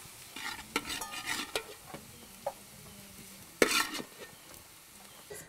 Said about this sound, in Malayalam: 4-5 സ്പൂൺ നല്ലെണ്ണ ഒഴിച്ചതിന് ശേഷം ബാംബു ഷൂട്ട് നന്നായിട്ട് വഴറ്റിയെടുത്തു